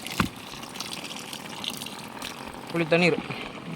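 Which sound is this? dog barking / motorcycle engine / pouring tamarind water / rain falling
pouring tamarind water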